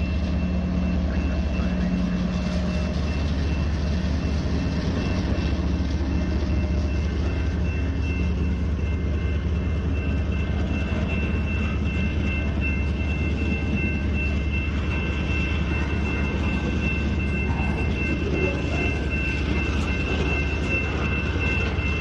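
A Norfolk Southern freight train with a DPU locomotive rolls past close by in a continuous heavy rumble and rattle of rail cars, with steady tonal whines above and faint voices underneath.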